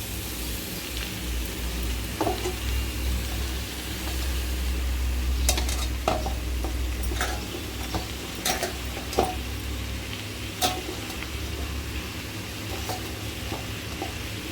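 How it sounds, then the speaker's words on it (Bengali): Spinach, potato and carrot for a tomato and spinach curry sizzle in a pan while being stirred, a soft continuous frying hiss with occasional scraping and clinks of the utensil, close and moderate in level, no talking. "ভালো করে নেড়ে চেড়ে নেব।"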